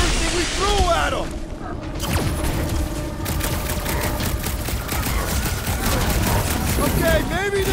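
Rapid sustained gunfire from a Guardians of the Galaxy boss fight against Thanos, loud and continuous with mechanical clatter and booms, with character voices shouting over the shooting.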